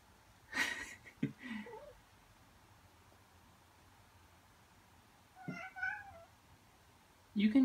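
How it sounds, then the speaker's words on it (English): A cat meows several times indoors in a house, short separate calls near the start and around the middle, with a louder cry at the end, against a quiet background. "Never had a cat actually just run into my house before."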